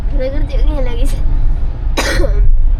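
A person coughs once in a short, harsh burst close to the microphone, just after a stretch of a voice talking, during an outing near a bridge under construction.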